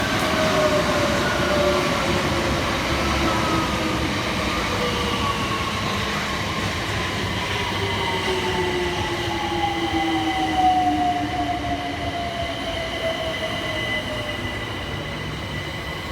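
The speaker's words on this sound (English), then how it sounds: "Arriving next into the station is 376032 and 376014, working the 1840 Southeastern service from London Charing Cross through to Hayes." Southeastern Class 376 electric trains, a pair coupled together, roll into a station on the Hayes line with gliding falling whines and faint wheel squeal, a steady rumble that eases as they slow.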